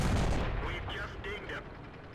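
In the video game World of Tanks, a Type 62 tank's gun fires a deep boom at the very start. A voice follows right away and talks over the fading sound.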